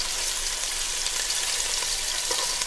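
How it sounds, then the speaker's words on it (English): Beef stew meat browning in a hot pan, a loud, steady, dense sizzle that stays constant throughout, with no talking. "we're just going to brown the meat"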